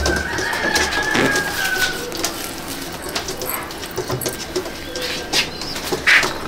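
Pigeons in a loft, including an Andhra breeding pair and a slate Kamangar, make soft cooing and rustling wing movements against a steady background hum, with faint chirps rising near the end.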